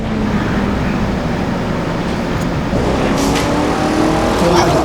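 A car drives in the Forza Horizon 6 racing game, with a steady loud engine drone and road rumble throughout and a faint higher tire squeal near the end, no talk.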